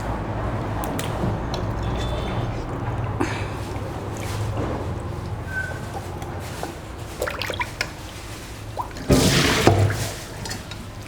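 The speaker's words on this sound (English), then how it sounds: "I have kept it in the water to wash it." Raw lamb meat being washed in a bowl of water, giving soft wet squishes, drips and sloshing handling sounds close by, with a louder burst of splashing near the end.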